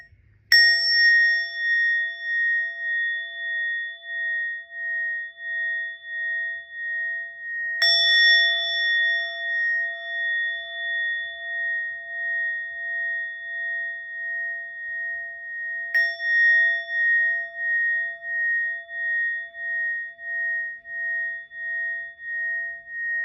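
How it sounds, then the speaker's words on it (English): A meditation bell struck three times at slow, even intervals, each strike ringing out clearly and fading in a long shimmering sustain, with nothing else heard. "We'll invite 3 sounds of the bell to end this part of the meditation."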